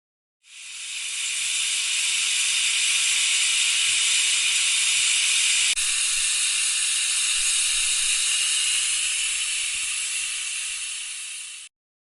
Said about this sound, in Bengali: প্রেশার কুকারের ঢাকনা দিয়ে ঢেকে দিচ্ছি টাইম সেট করে দিচ্ছি দশ মিনিটের জন্য এই দশ মিনিটেই মাংসটা সেদ্ধ হয়ে যাবে